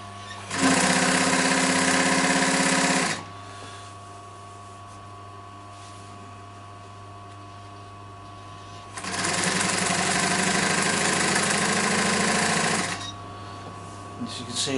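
A sewing machine stitches piping for a double-piped chair cushion in two loud sustained runs of steady motor whir, separated by a quieter pause with a low constant hum.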